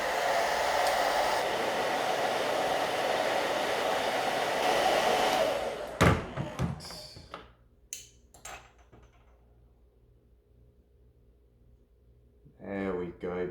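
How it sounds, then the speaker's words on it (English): A hair dryer heats longboard grip tape adhesive, blowing in a steady loud rush for about six seconds before switching off, followed by scattered handling clicks and scrapes. "it's fine to just use a hairdryer"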